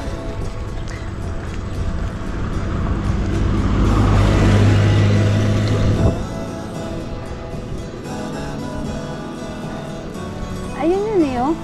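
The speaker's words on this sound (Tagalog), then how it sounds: "parang ngayon ako may dumaan ulit na sasakyan" A car passes on a mountain road near a peak, its engine swelling to a loud close pass mid-clip before fading away, with people talking around it.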